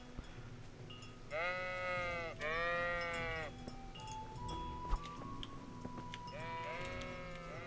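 Sheep bleat in the video game Kingdom Come: Deliverance: two wavering bleats close together, then a third after a pause, over faint background ambience.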